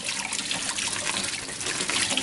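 Rinse water runs steadily over plastic or metal tabletop miniatures sitting in a colander-style salad spinner insert at a sink, a continuous close splashing trickle with no talk.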